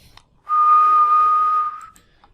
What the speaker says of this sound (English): If I whistle